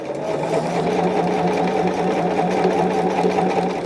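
A sewing machine stitches a quilt block for a diamond-pattern calendar quilt in a steady, continuous whir with a fast even hum, close and unbroken throughout, with no talk.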